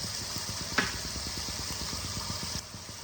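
Fish curry masala for a Bengali local fish curry sautés with a little water, a steady close sizzling hiss over a pulsing low hum, with one sharp tap early on.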